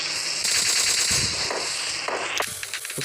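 Automatic gunfire from the video game PUBG Lite, a loud, close burst of rapid shots over a steady background, ending abruptly and followed by a few scattered impacts.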